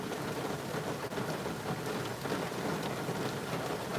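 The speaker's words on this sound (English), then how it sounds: "You like the rain? It's beautiful." Steady rain pours down with rumbling thunder underneath, a dense, continuous hiss of drops close by and a low roll running through it, with no voices.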